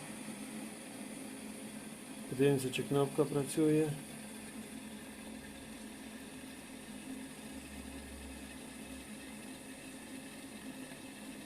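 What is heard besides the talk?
Grunhelm electric kettle boiling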